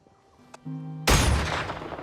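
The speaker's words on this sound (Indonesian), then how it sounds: "Logan langsung memperlihatkan cara memegang senjata termasuk menembak hewan tepat di depan anaknya" Gunfire from a film scene in which an animal is shot, a single sudden loud blast after a brief sustained tone, followed by a decaying rumbling tail.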